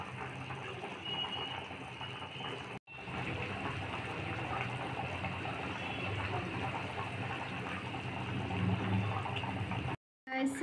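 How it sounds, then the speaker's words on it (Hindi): Water comes to a boil in a pan over a high flame while cooking chicken lal jhol, a soft steady bubbling hiss heard close, with a brief break partway and a quiet voice in the background. "ये देखिए पानी में उबल आ चुकी है"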